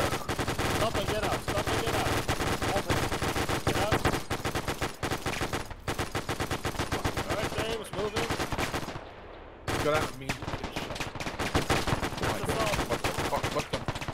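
Heavy gunfire in Arma 3, sustained automatic bursts and rapid shots firing almost without pause, loud and close, with a short lull near the middle.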